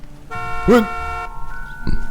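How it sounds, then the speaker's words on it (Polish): A car horn blares in L.A. Noire, first as a sustained tone for about a second with a short spoken exclamation over it, then a brief second toot near the end. "Co tam trąbisz, pajacu?"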